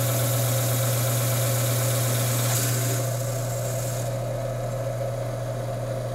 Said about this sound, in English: you hear that high-pitched whine, the ball's actually just rolling around in there.